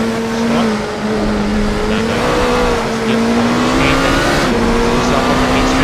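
Race car braking hard into the Compton chicane at Le Mans in a sim racing game, a loud steady engine note sliding downward as speed bleeds off, with faint tire noise underneath.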